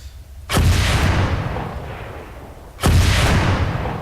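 Two loud rocket launches from a launcher weapon in Arma 3, with the Operation Trebuchet mod. Each is a sharp boom followed by a long roaring tail, spaced about two seconds apart, with no talk.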